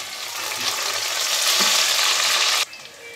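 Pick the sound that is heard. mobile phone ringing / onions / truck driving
onions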